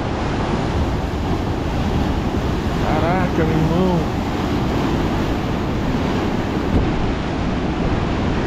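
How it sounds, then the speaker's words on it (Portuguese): Huge ocean waves crash at Praia Grande beach in Arraial do Cabo, a loud continuous roar of surf mixed with wind noise on the microphone, while someone speaks briefly over it. "As ondas estão gigantes, cara."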